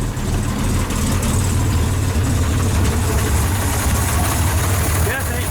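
A Chevrolet Corvair engine idles steadily without its air cleaner, with a low, rumbling hum and faint hiss from the carburetor area, loud and close throughout.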